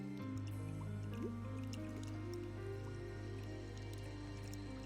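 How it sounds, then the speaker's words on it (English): Steady drips of water in the video game Minecraft 1.17 over a constant low hum, with soft squishy liquid sounds and a few brief tonal blips, fairly quiet. "Drip sound is better than the actual rain"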